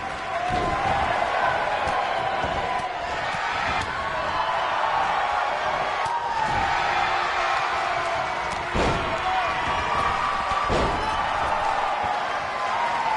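Repeated slams and thuds in a house-circuit wrestling match, heavy impacts landing every second or two over a steady roar of crowd noise with some cheering and a commentator talking.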